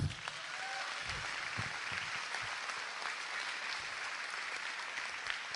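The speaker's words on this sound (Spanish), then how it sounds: "denle un aplauso al Señor" A church congregation applauds during a sermon, a continuous, fairly distant wash of many hands clapping that holds steady and faint for several seconds.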